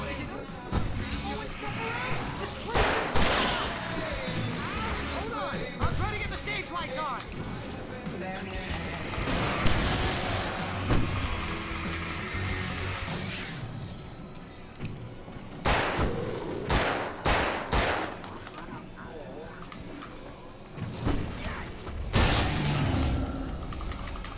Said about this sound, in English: I can set off some fireworks from here and help you out!